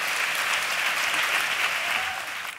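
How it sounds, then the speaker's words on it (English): Audience at a film festival award presentation breaks into a sustained round of applause, full and even before tapering off at the end. "Please give a huge round of applause to Mr. Daniel Espinosa."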